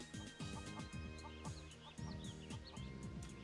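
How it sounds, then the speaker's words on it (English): Chickens in the video game Mabinogi cluck in steady, repeated rhythmic bursts that run continuously over game music and ambient effects. "if the hens and roosters are around here"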